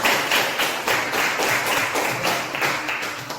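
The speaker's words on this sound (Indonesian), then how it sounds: "Silakan kita berikan tepuk tangan dulu." A small classroom of students claps after a group presentation, loud, close, uneven clapping with distinct rhythmic bursts continuing throughout.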